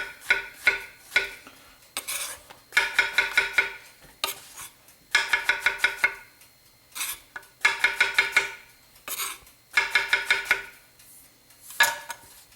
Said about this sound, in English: I've got a nice utility knife here. Nice consistent slices.